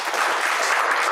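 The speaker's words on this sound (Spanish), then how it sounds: "Dame un aplauso a Dios por eso." A burst of steady applause from a large church congregation, dense and continuous for a moment.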